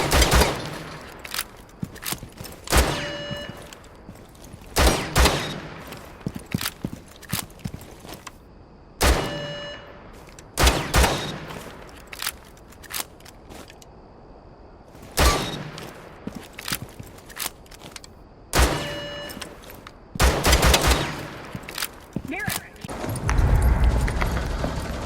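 MEUSOC handgun fired in Rainbow Six Siege, sharp loud single shots in spaced clusters of two to four with quiet gaps and footsteps between them.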